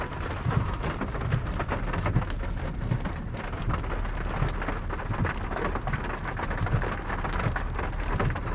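Steady rain falls outdoors at an auto show, a dense, even hiss of drops pattering on surfaces that holds at a constant level throughout, with no talking.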